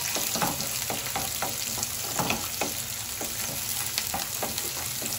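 Vegetables and green chillies sizzle and crackle in a hot pan, a steady frying hiss broken by repeated stirring scrapes, close and alone.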